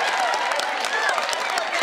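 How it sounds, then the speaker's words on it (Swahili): Audience applause at a community gathering in Westlands where motorbikes are donated to women groups, a steady patter of clapping at moderate distance with faint voices mixed in. "Tumpigie makofi"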